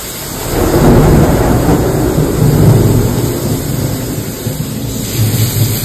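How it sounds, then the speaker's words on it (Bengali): Heavy rain pours steadily while thunder rumbles deep and long, swelling and fading across the whole stretch, loud and enveloping with no voices. "তোমরা শুনতে পেলে কি জোর মেঘ ডাকছে?"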